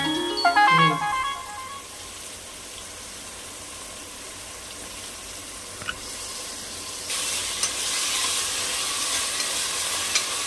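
Onions and green chillies sauté for a gravy, giving a continuous soft sizzle close by, with a brief ringing tone at the start and the frying growing slightly louder and hissier toward the end.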